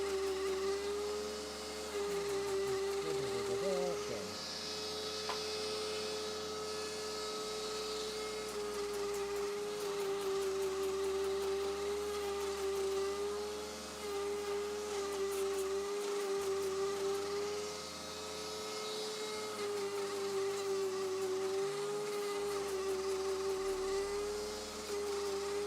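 A power sander whines steadily and continuously, with a constant motor hum and shifting low grinding as it works across a surface.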